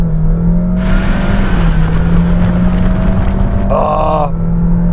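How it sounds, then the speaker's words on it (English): A 2022 Honda HR-V accelerates hard in sport mode, its engine droning steadily and rising in pitch under constant road and cabin noise, loud and close from inside the car with a brief grunt-like sound near the end. "that engine's really singing"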